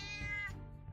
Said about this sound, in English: Also, kittens.